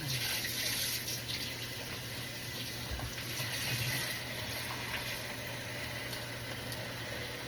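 Water running steadily from a tap, a continuous hissing splash with a low hum beneath it.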